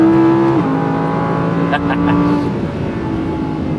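A naturally aspirated Audi R8 V10, running in fifth gear, drones loud and close from inside the cabin, its tone dipping briefly early on before holding a steady, even roar.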